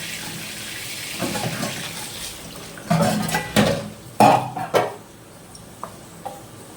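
Tap water splashes over washed fish and meat in a basket at night, coming in several uneven bursts of gushing and spattering, with short quieter gaps between them, close by.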